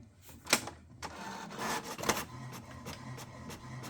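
HP Smart Tank 7602 printer working with a series of mechanical clicks, whirs and short sliding bursts, close and moderately loud, with no one talking.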